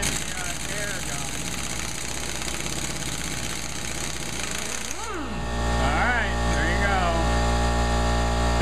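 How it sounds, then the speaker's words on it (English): A pneumatic impact wrench hammers at a MerCruiser Alpha One outdrive nut in a steady, loud rattling burr. The tone shifts partway through, and voices talk over the tool noise. "let's try the air gun"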